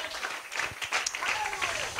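Church congregation applauding during worship: a brief burst of dense clapping, moderately loud and crowd-like, with voices mixed in.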